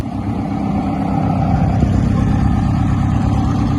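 A Ferrari engine, an older daily-driven car, runs with a loud, steady low rumble that holds through the whole stretch without clear rev spikes.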